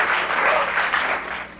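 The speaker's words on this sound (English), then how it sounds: "a round of applause for a wonderful subject there." An audience at a high school cast party gives a short burst of applause, steady clapping from a moderate-sized crowd lasting under two seconds, somewhat distant and even.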